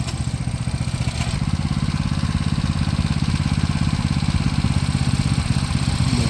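A motorcycle engine runs steadily in gear, close and loud, with a continuous low throbbing drone and clattery mechanical texture throughout and no talking.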